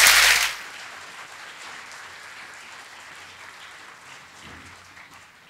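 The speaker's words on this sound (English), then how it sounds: "Can we get another round of applause for our Senior Concert Band for a wonderful performance?" A loud burst of applause for a school senior concert band at an anniversary assembly at the very start, cut off abruptly after a moment, leaving only faint room noise.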